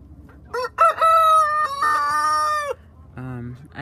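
A rooster crows loudly nearby in a long drawn-out call from a backyard chicken coop, followed by a shorter lower cluck-like call from the flock.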